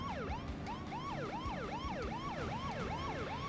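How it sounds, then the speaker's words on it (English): Repeating wailing police siren from The Simpsons Hit & Run video game, rising and falling steadily over a low engine rumble, loud and continuous throughout. "I have on my siren, why aren't you pulling to the side?"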